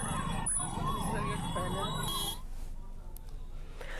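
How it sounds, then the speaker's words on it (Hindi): An ambulance carrying a patient, stuck in a traffic jam, wails its siren continuously in a rising-and-falling pattern, then cuts off after about two seconds, leaving quieter street noise. "लगातार इसका जो सायरन, जो हूटर है, वो रिंग कर रहा है"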